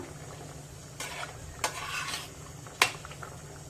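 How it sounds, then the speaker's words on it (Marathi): A spoon scrapes and clinks against a pan while a spice mixture with garam masala is stirred over high flame for a pomfret curry, with a soft sizzle beneath and a few sharp metallic knocks. "हे सर्व मिक्स करून घेऊया"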